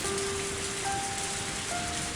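Steady, dense rain patters across surfaces in the Higurashi video game, a constant hiss with faint tonal game music drifting underneath.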